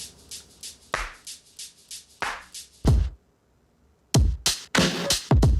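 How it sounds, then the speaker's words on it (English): A rhythmic shaker pattern of crisp, hissy pulses repeats steadily, breaks off for about a second, then returns with louder percussive hits in a distorted, heavily edited beat from a remix. "Shaker."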